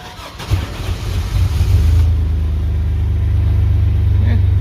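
An old 1951 Chevy Suburban panel truck engine cranks briefly, then catches and settles into a loud, steady low rumble that continues to the end.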